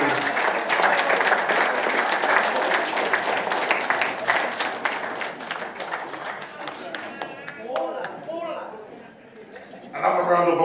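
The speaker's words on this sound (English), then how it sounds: "Another round of applause for Moses." Wedding guests applaud in a reception hall, a dense crackle of many hands that thins out midway, with voices and chatter mixing in as the clapping fades.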